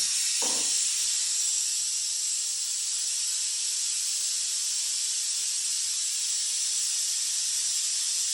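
A vacuum bleeder draws brake fluid from a Brembo RCS16 brake on a 2000 Harley Dyna FXDX, producing a steady, loud, continuous hiss from start to finish after a brief low thump at the opening.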